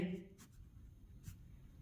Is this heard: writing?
yes